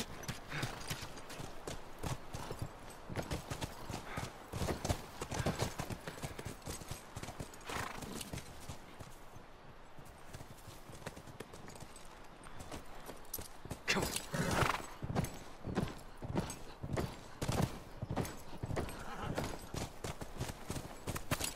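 Horses in The Last of Us plod along with a steady, dense clip-clop of hooves, broken by a few whinnies and snorts, at a moderately loud level throughout.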